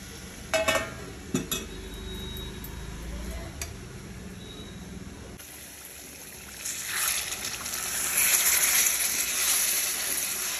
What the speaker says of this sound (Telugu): దీంట్లో నేను ఏవైతే ఇంతకుముందు కొన్ని నీళ్ళు పోసానో అది పోస్తున్నాను